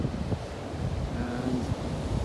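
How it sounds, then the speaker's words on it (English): Surf on a beach rolls in as a steady broadband wash with strong wind buffeting the microphone; no birdsong stands out above the roar. "The ripple and foamy waves, birds singing to us in the background"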